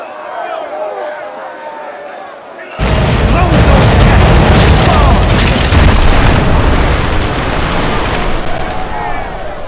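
Ship chaser cannons firing in the naval video game Commander Conquest of the Americas: after a quieter stretch, a sudden loud boom erupts and gives way to a dense, sustained roar of cannon fire and rumble that lasts to the end.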